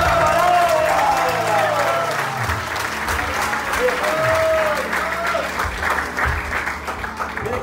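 Loud applause from a church audience during a Spanish-language sermon, dense clapping that fades gradually while a voice speaks and other voices carry on over it.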